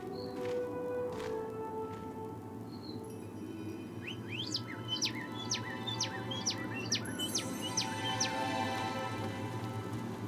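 Birds chirp in a Lord of the Rings: War in the North forest scene: a few faint early calls, then a quick run of bright, repeated tweets over a low, steady ambient hum, fairly quiet overall.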